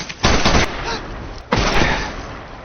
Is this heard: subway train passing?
no